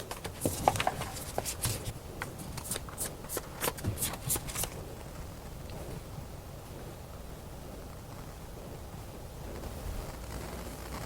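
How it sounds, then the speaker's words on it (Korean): Tarot cards are shuffled and drawn in rapid, crisp riffling bursts close by for the first few seconds, then the sound settles into quiet room tone. "카드로 한번 뽑아보도록 할게요"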